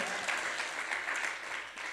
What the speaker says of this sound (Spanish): Someone has to give an applause to the Lord.